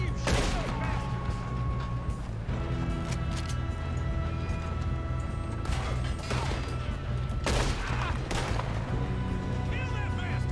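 Chaotic shootout in Red Dead Redemption 2, with repeated sharp gunshots cracking over a steady low rumble of battle ambience and voices speaking amid the fight.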